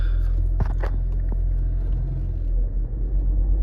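A 1.5-litre Mercedes-Benz C200 MHEV EQ Boost AMG Line engine idles just after start-up, a low steady rumble close by, with a few light clicks and knocks from inside the car early on.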